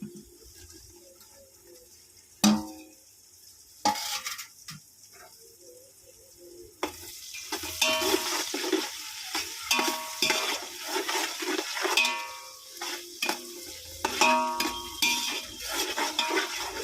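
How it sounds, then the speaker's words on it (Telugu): Chopped green chillies fry with softened onions in a pan for mutton curry. After a clunk and quiet stirring, a busy crackling sizzle starts and continues with scraping stirs, close by and without speech. "ఇప్పుడు మనం కోసి పెట్టుకున్న పచ్చిమిర్చి వేసుకుందాం"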